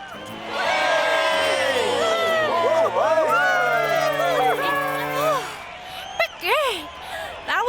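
A crowd cheers and whoops after a bike stunt, many rising and falling voices yelling together, loud and sustained, then thinning to a few scattered shouts.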